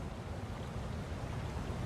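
A river rushing toward a waterfall in a film scene gives a steady, dense roar of flowing water that stays even throughout, with no voices.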